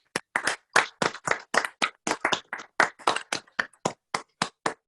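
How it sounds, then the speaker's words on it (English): A lone pair of hands claps a steady, fairly quick rhythm of about twenty crisp, close claps, with short gaps between them and no other sound. "This clapping is for you."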